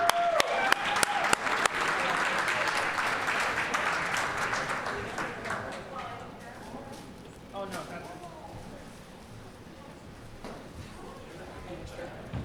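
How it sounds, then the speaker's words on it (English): A room of guests at a swim team banquet claps for the athletes, brisk applause for about six seconds that thins and fades, followed by quieter room noise with a few scattered claps and movement. "round of applause for all these wonderful athletes"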